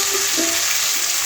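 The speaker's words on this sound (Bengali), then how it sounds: "পেঁয়াজগুলো একটু লাল লাল করে ভাজবো।" Onions fry in a pan for a restaurant-style egg curry, a steady close hiss and sizzle with faint scraping.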